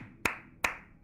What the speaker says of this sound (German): Da kann man auch mal klatschen